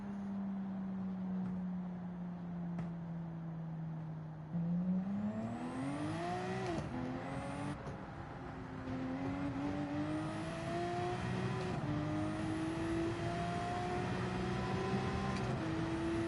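Race car engine in the Gran Turismo 7 video game, a steady drone that rises in pitch as the car accelerates, with repeated upshifts and rising revs through the run.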